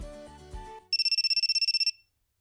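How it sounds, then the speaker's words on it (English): A cell phone held in a character's hand rings in the video game ISLAND, a bright electronic ringtone of about a dozen rapid pulses that cuts in after fading music and stops abruptly. "The cell phone in Momoka's hand rings."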